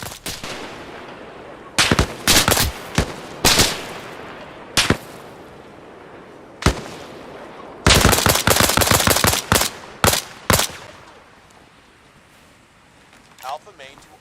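Small arms gunfire in a video game at a construction site comes in bursts of sharp shots, with single cracks and rapid strings of fire separated by quieter gaps.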